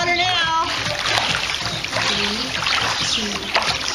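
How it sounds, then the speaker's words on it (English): Water splashes and churns continuously in a pool during aqua exercise with a pool noodle as arms and legs move through it, close and lively, with a voice briefly heard under the splashing. "Woo, moving a lot of water now."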